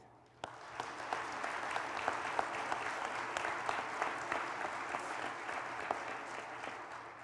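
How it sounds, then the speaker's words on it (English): After a sharp start, a room full of people applauds board members standing for recognition, a steady, moderately loud patter of clapping that holds evenly to the end. "please stand and let's give them a round of applause"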